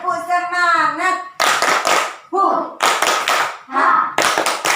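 A primary school class chants a rhythmic 'tepuk semangat' spirit cheer together, voices in sung phrases alternating with bursts of loud group clapping in a close classroom.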